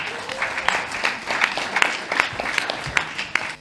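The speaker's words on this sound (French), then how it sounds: "Applaudissements pour le 100 ECS quand même." Audience applause fills the 100 ECS venue at the opening of a short film festival in Paris, a steady dense clapping with crisp individual claps standing out, sustained throughout at moderate volume.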